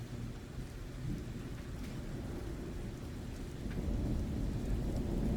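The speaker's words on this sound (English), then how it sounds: "it's really starting to rain hard now" Heavy rain pours down with low rumbling thunder, a dense steady wash that swells louder toward the end, with no voices.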